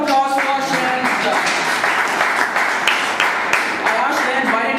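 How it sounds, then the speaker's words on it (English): Audience applause at a debate event, steady dense clapping filling the clip at a moderate level, with voices mixed in. "round of applause for Shreyan."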